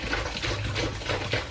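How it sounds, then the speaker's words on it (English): Spring water pours steadily into a beer fermenter for a chocolate stout, a soft continuous splashing and gurgling stream heard close and alone. "So I'm going to get the spring water in there."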